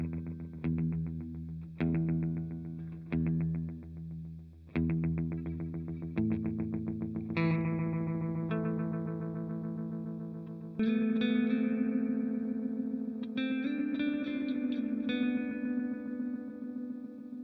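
Electric guitar runs through a Moog delay pedal on a 50s retro rockabilly setting, with picked notes and chords trailing into repeating echoes, loud and close with no talk.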